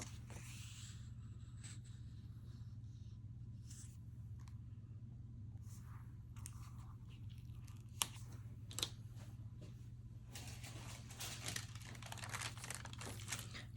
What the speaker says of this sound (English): Good old wax paper.